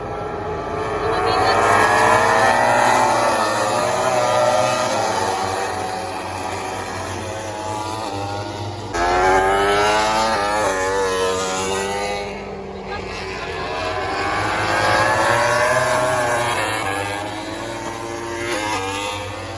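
MotoGP motorcycles racing at the Mandalika circuit, heard from the grandstand as a continuous roar of engines with rising and falling pitch sweeps as bikes pass. Crowd noise and talk blend in underneath.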